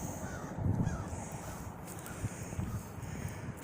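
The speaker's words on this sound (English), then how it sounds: "I ain't never heard a fucking crow. Sound like he was laughing." A crow caws twice outdoors, a few rough calls that sound like laughter, distant and faint over steady wind and microphone rumble.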